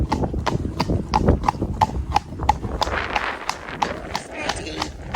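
Horse hooves clip-clopping in a steady, quick rhythm on a hack along a roadside verge, close and clear, with a rider talking over the hoofbeats.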